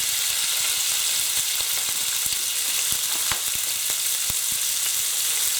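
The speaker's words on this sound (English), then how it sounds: "it's really nice and hot now, so what I'm going to do is grab the beef mince. I'm just going to gently kind of put that in." Beef mince sizzles loudly in a very hot pan for cottage pie, a dense continuous crackle with scattered sharp pops and spatters, close up and with no voices.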